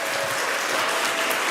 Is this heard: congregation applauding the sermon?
yes